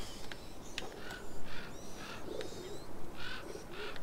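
Pigeons in A Plague Tale coo softly in a repeating pattern over a low ambient background, with a few sharp chirps mixed in.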